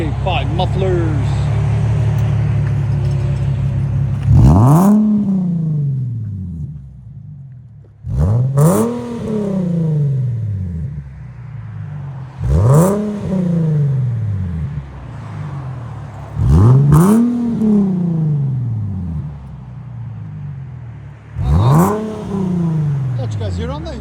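Five loud, close revs come from a 2012 Infiniti G37's 3.7L V6 fitted with HK5 mufflers, each swelling and dropping back to a rumbling idle at steady intervals. A bit of talk sits under the idle between bursts.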